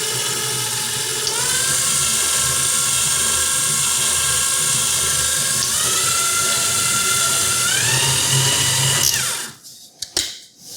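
KitchenAid Artisan Mini 3.5-quart stand mixer running steadily with a loud, continuous motor whine and shifting pitch, close by, mixing pumpkin cake batter, then stopping near the end.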